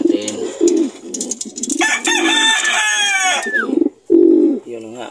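Chickens cluck and a rooster crows close by in a backyard coop where a newly hatched chick has appeared, the calls rising in loud overlapping bursts while a person talks in between.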